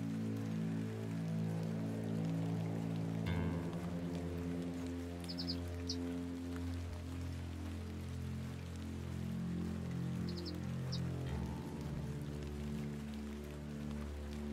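Steady rain falls in foggy weather in the video game The Excavation of Hob's Barrow. The patter is soft and continuous over a low humming drone, with a few faint chirps.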